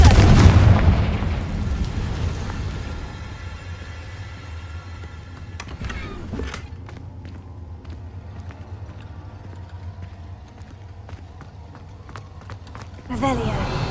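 A Confringo fire spell in Hogwarts Legacy bursts with a booming blast at the start, followed by scattered impacts and crackles, with another burst near the end and a voice casting spells over the game audio.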